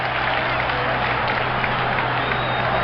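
Crowd at a 1974 Boston Celtics basketball game, a dense continuous roar of cheering and applause filling an arena, loud and sustained throughout.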